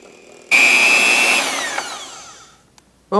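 An electric hand mixer mixing cookie dough whirs loudly with a high motor whine, then slows and winds down before stopping.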